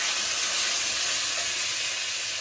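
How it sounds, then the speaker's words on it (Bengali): Drumsticks and potatoes fry together in a pan for a village-style fish curry, producing a loud, dense, unbroken sizzle heard close up without any speech. "সজনে দিয়ে বেশি ভাজবো না"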